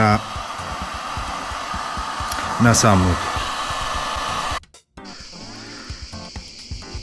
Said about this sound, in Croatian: Sad dalje grijem ovim fenom i prilagođavam oblik da se lijepo uklopi tamo